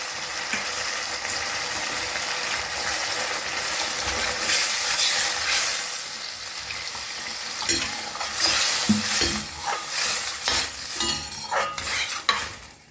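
Water poured into a hot frying pan while cooking egg chilli, a loud, steady sizzle of steam and bubbling oil that runs throughout, with scraping and clattering from stirring growing busier toward the end.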